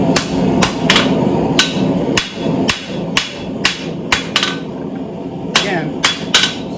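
Steady rhythmic hammer blows ring on an anvil while blacksmith tongs are forged, about a dozen sharp metallic strikes at an even pace, loud and close, with brief pauses between groups.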